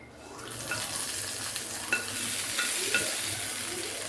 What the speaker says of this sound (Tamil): கொஞ்சம் தாளிப்பை இதில் ஊற்றிடுவோம்.